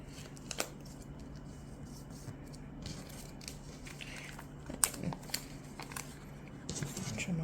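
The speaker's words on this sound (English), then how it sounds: "Trim off the edge over here." Scissors trim the edge of a paper wrap in small, close snips and crinkles, irregular and fairly quiet, over a faint steady hum.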